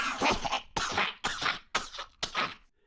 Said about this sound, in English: Then suddenly, Harry hears a strange coughing and gagging noise behind him.